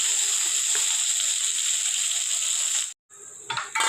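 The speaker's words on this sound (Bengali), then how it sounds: "হালকা ভাজা ভাজা করে নেব।" Long-cut potatoes with black cumin fry in oil, giving a constant bright sizzle up close that briefly drops out before resuming with a few clattering stirs.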